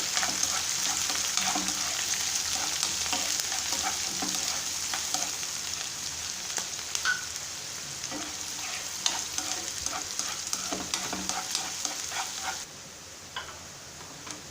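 Onion and green chili fry in hot oil for tomato rice, giving a bright continuous sizzle with scattered spoon scrapes and ticks, heard up close before the hiss drops abruptly quieter near the end.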